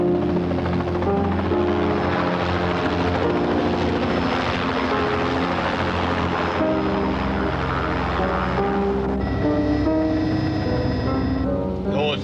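A helicopter's rotor thrum and engine whine drone loudly and steadily throughout, with no break.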